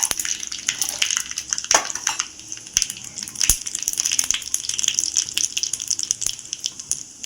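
Cumin seeds dropped into hot oil with mustard seeds already in, tempering for a raw mango chutney; a steady bright sizzle and crackle runs throughout with sharp pops, no voices.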